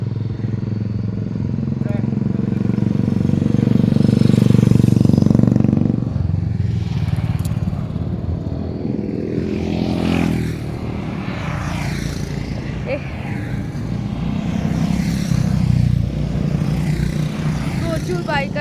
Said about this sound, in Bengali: প্রচুর বাইকার্স গেল।